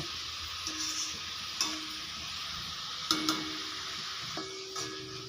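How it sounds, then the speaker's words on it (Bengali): Thin-sliced potato chips frying in hot oil, giving a continuous moderate bubbling sizzle with a few scattered clicks and taps from stirring. "তো আবারও আমি কিছুটা আলু ভেজে নেব।"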